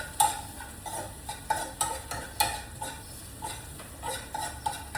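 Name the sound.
onions sautéing in a pan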